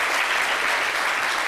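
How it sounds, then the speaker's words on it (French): Dense, steady applause from a crowd, loud and continuous throughout with no gaps. "je pense qu'on peut applaudir ça quand même."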